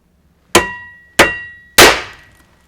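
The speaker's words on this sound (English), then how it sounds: "I've switched over to the two-handed ram set that you strike on the back with a hammer" A hammer strikes the back of a two-handed powder-actuated ram set driving nails into concrete, giving three sharp, loud metallic cracks about half a second apart, each ringing briefly before fading.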